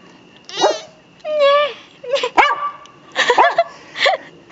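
A pet dog gives several short, high yipping barks with whiny tones, spaced irregularly and close by, over a quiet indoor background.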